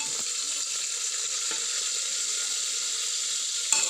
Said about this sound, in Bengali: তেল গরম হয়ে গেছে, এখন মাছগুলো ছেড়ে দিয়েছি